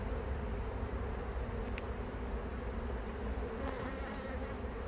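Honeybee hive entrance in Devon in the afternoon, with foragers leaving and returning: a steady, dense buzzing drone that holds at an even level throughout, with no voices.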